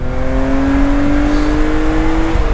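A BMW cabriolet engine with 231 hp revs up toward 7000 rpm, a loud steady climbing drone with rising pitch held for several seconds, heard close with no talk.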